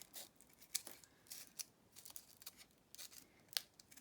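Scissors snip crepe paper around a template for a paper rose, a few sharp, crisp cuts with faint crinkling between them, close and quiet with no talking.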